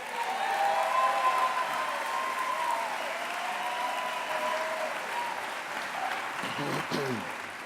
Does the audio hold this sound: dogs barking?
no